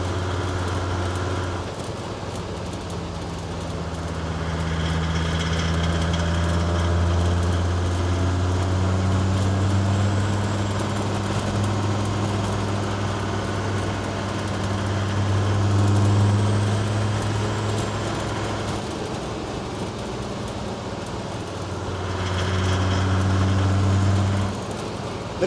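A series 1 Land Rover fitted with a 435 bhp OM605 turbo diesel engine drives along with a steady, loud low drone that swells and eases a few times as it pulls, with no voices over it.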